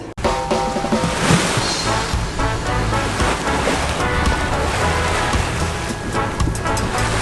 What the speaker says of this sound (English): We are motor sailing and we're going at a good clip right now.